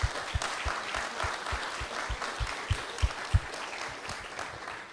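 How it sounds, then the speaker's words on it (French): An audience at a French cybersecurity conference applauds the speakers, a steady close wash of hand clapping with stronger low thumps from nearby hands, continuing evenly for the whole stretch. "J'aimerais bien que vous les applaudissiez également"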